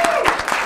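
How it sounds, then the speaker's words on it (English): Audience at a county commission meeting clapping for an honoree, a short burst of several distinct hand claps, fairly close and loud. "Will you give her a round of applause?"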